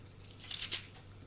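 Potatoes cut by hand with a knife, without a board, in a home kitchen: one short, crisp slicing scrape followed by a quick cut, close and fairly quiet.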